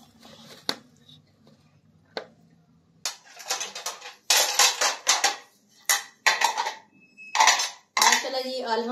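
Dishes, pots and cutlery clatter as food is served for a village family feast, with sharp clinks and scrapes arriving in irregular bursts, close and loud, growing busier toward the end.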